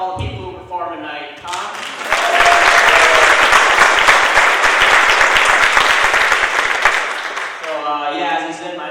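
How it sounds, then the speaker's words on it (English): A comedy variety-show audience bursts into loud, sustained applause for the night's performers, dense clapping swelling and fading, with a voice speaking before and after. "let's give a round of applause for all the people who performed tonight"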